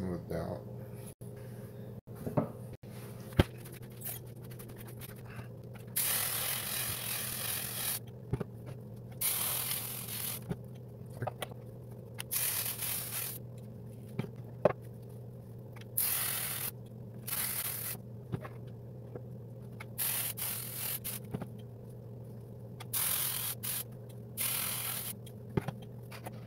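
Wood on a Lee Enfield rifle is sanded by hand in repeated bursts of dry rasping strokes separated by short pauses, fairly quiet over a low steady background hum.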